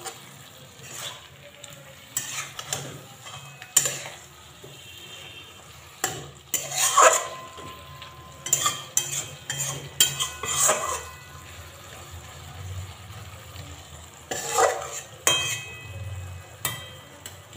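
Lemon juice stirred into a bean curry with a spoon in a pan: irregular scraping and clinking bursts of the spoon against the pan over a soft background sizzle, close and moderately loud.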